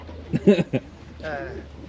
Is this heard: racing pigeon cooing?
yes